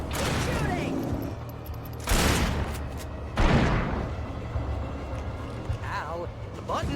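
Gunfire in the Alan Wake video game comes as bursts of rapid shots, with two loud blasts standing out against a dense, busy game soundscape while a voice talks over the action.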